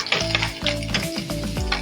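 Garlic, ginger and onion sizzle and fry in a pan for gravy momos, a loud, steady crackle with stirring scrapes and no voices.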